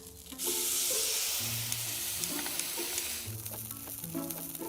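Martini Bianco hits a hot pan with salmon, bursting into a loud, steady sizzle and hiss that eases slightly as it settles, close up with no talking.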